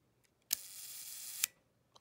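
Shutter release of a Kodak Medalist camera, a sharp mechanical click followed about a second later by a second click, with a soft whir of the blades between, close and alone in a quiet room.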